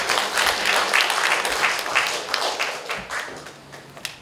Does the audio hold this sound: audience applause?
yes